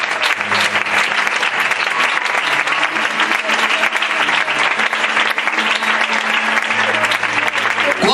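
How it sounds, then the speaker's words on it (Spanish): A congregation at a church service applauds, dense sustained clapping from many hands filling the room at constant strength, loud and close, with a few voices mixed in. "Dales aplauso a este amor"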